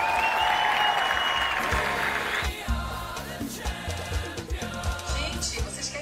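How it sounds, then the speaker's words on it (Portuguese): A studio audience applauds with brief cheering, the clapping strongest at first and then thinning out under speech and music. "Senhoras e senhores, palmas aqui pro Luca."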